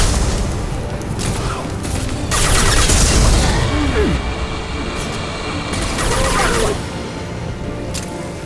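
Enemy gunfire and heavy booms from the video game Mass Effect 2, played on Insane difficulty, swell in two loud bursts over a steady rumbling battle backdrop, with mechanical clanks in between.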